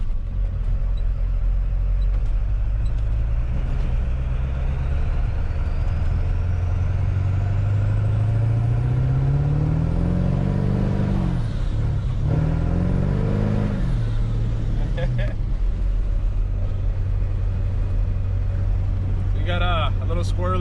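An OBS Ford truck with a swapped axle drives over a rough dirt road, its engine a steady loud drone with rising and falling revs and rattling over bumps, close inside the cab.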